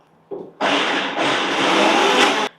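A mixer grinder gives a short pulse through a coarse moong dal cutlet mixture: a brief click, then a loud, steady whirring burst of about two seconds that cuts off sharply.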